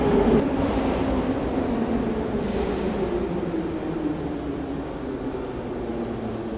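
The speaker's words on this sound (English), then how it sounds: "the metro is coming, so it's gonna get loud here" A metro train pulls into a Russian subway station with a loud, steady rumble and a slowly falling mechanical whine that fills the platform.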